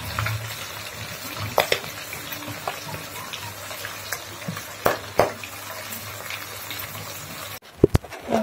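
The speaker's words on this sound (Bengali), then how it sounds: "এই যে মাছটা আমি ভেজে নেবো।" Fish frying in a pan in a home kitchen, a steady low sizzle broken by a few sharp clatters and scrapes, with a louder knock near the end.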